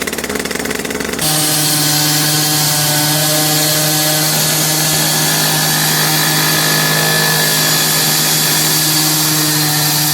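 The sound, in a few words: slab cutting machine cutting a concrete slab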